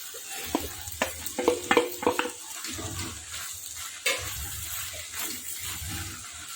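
Chopped onions go into okra frying in a pan, giving a close hiss and sizzle with clattering stirring strokes early on, then a steadier frying noise.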